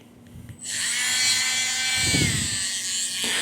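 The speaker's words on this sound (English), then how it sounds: "And then I'm gonna bring out the Dremel." Dremel rotary tool grinding a dog's nails, a high whining buzz that starts abruptly after a short quiet moment and holds steady and close, with a slight dip in pitch as the tool touches the nail.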